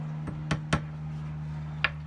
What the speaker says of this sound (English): And then I'm going to tap it in with a hammer.